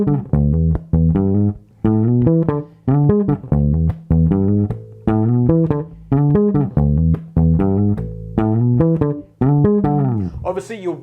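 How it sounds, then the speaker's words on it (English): Funk bass line on bass guitar with tritone slides, a steady run of punchy plucked notes with gliding pitch moves, played alone and close with no talking. "So the whole line sounds like this when we put it together."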